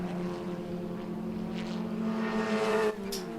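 Race cars drone steadily around a circuit during a Thunder Down Under event, one engine note rising and swelling closer before dropping away, with a faint, distant layered hum of other cars behind.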